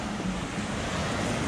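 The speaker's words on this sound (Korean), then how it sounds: "파도가 여기까지 오니까 여기서 먹어야겠다." Ocean waves wash onto a beach in a steady, loud roar of surf, with wind buffeting the microphone throughout and no voices.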